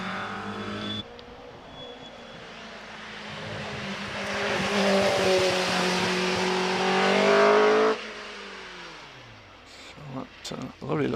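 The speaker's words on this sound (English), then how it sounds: "Chevron going up the hill once again." A Chevron B19 sports racing car climbs the Prescott Speed Hill Climb course, its engine revving hard through the gears and rising to a loud peak before cutting away. A commentator talks over it.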